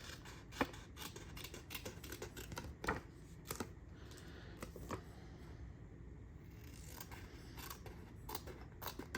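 Scissors snip through photos for a scrapbook, a series of quiet, close, irregular crisp cuts and clicks against a hushed background.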